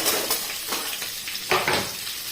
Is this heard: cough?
no